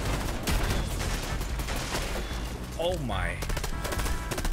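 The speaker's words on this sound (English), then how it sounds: "I'm getting people shooting at me." Gunfire aimed at the player in Fortnite, rapid bursts of automatic shots crackling one after another with a sweeping whoosh midway, while a voice briefly exclaims over the shooting.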